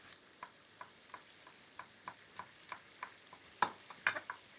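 Garlic sizzling in a frying pan with peppers and onions, a steady crackling fry broken by regular stirring scrapes and a few louder clacks near the end, with no talking.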